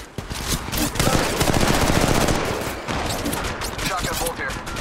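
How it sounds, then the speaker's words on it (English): Rapid automatic gunfire in Apex Legends Mobile, a dense, loud, continuous stream of shots running through most of the clip, close up, with talking over it. "Shots fired and they're hitting me."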